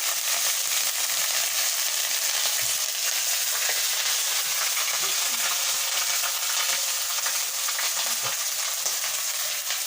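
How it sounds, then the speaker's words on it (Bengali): Garlic paste and mustard sizzle steadily in hot oil in a pan, a continuous close frying hiss with occasional scraping stir strokes throughout, no voices. "রসুন বাটা দিয়ে দিয়েছি। এবার এটা সরষে ভালো করে নাড়ে করে একটু জল দেবো।"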